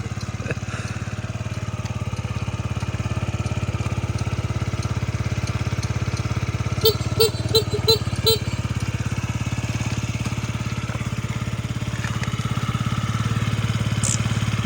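A Yamaha Jog SA36 fuel-injected scooter engine idles steadily with a low, even drone, joined midway by a brief run of faint high chirps.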